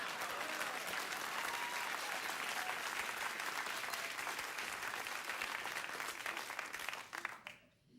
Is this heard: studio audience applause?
yes